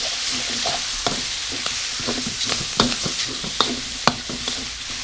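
Tender beef stir-fried with holy basil in a pan gives a steady sizzle broken by repeated scraping and clanking stirs, the louder knocks coming near the end, with no speech.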